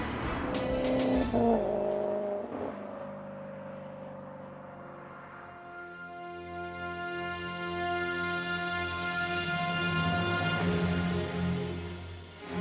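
A Maserati GranTurismo Coupe Stradale sports car revving and accelerating, its engine note climbing smoothly in pitch through the gears over several seconds, fairly close and strong.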